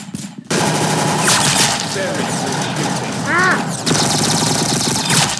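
Rapid automatic gunfire in an Arsenal first-person shooter game, loud bursts rattling almost continuously with brief gaps, mixed with game effects and a voice talking over it.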